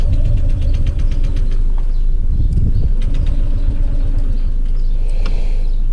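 Honda ADV150 scooter engine cranking and sputtering unevenly up close, briefly catching into a rough loud running before faltering and dying.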